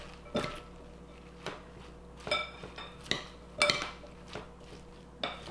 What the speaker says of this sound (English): So we're just going to toss this till everything's coated.